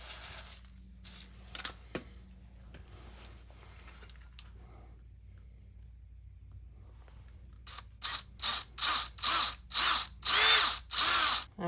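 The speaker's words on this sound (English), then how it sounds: "I'm going to go ahead and drill my holes" A power drill bores holes into a plastic bracket for an XR200R dirt bike, heard as a run of short, loud whirring bursts in quick succession toward the end, after quieter handling noise.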